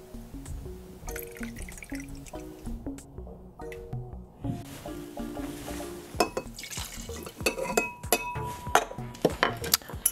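Ice cubes clink and rattle against glass at a bar while a mojito is prepared, with scattered sharp chinks, drips and clatter growing busier toward the end.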